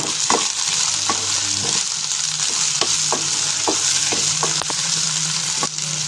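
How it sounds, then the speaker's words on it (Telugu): Chicken being stirred and fried with ginger garlic paste after browned onions, a continuous sizzle broken by repeated scraping clicks of a spoon against the pan, with no one talking. "అల్లం వెల్లుల్లి పేస్ట్ వేసుకొని చికెన్ బాగా కలుపుకోవాలి"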